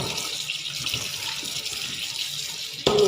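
Large chicken wings are washed under a running kitchen tap, with a steady hiss of water splashing into a sink throughout and a brief louder gush near the end.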